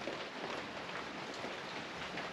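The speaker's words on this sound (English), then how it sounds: "It's raining a lot outside." Heavy rain pours outside while listening from indoors, a steady, dense hiss of falling water with no break and no voices.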